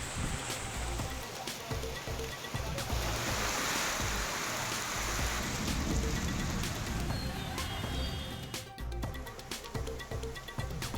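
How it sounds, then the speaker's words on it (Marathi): Heavy overnight rain in Mumbai pours down as a steady, loud, dense roar of water that stays at an even level throughout with no voices. "मुंबईमध्ये रात्रभर कोसळधार, उपनगरांमध्येही रात्रभर पाऊस।"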